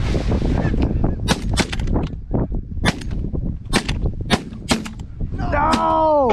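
Shotguns fire during a swan hunt: a rapid volley of sharp, loud blasts, around a dozen irregular reports over several seconds. Voices and a honking call rise near the end.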